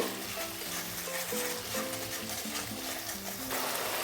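Garlic paste and tomato paste frying in a pan while being stirred, a soft continuous sizzle with scraping strokes and faint background music, close and fairly quiet, no voices.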